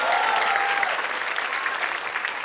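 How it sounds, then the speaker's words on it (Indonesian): A studio audience at a stand-up comedy show applauds, a dense burst of clapping from a large crowd, loud at first and gradually easing over a couple of seconds. "Tepuk tangan buat mereka-mereka semua."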